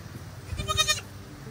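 A single goat bleats once, a short wavering call, close by over a low background rumble.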